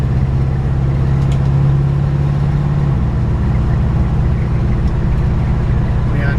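A 1947 Buick Special fitted with a Chevy 350 V8 and a 350 Turbo automatic gives a continuous low engine drone from inside the cabin while it drives, steady and unbroken throughout.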